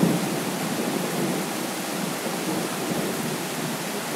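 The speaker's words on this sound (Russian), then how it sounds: "Пока вот гремит, сверкает." Rain in Moscow during a thunderstorm, a steady hiss of rainfall with a faint low rumble underneath, constant and moderately quiet, with no talking.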